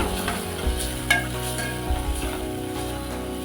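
Dal masala fries in a pan with chilli powder, coriander powder, garam masala and turmeric, giving a steady close sizzle broken by repeated scraping stirs and occasional clunks of the spoon.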